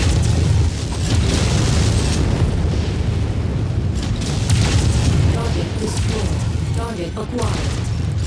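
Missiles slam into targets in the video game MechWarrior, producing a dense, continuous barrage of loud booms and rumbling explosions, with a voice talking over the din.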